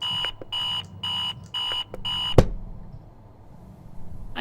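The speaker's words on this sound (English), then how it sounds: "This is quite the annoying alarm I can see." An alarm clock in the video game Virginia beeps in a few even pulses. A sharp thump cuts it off abruptly, leaving quiet ambience.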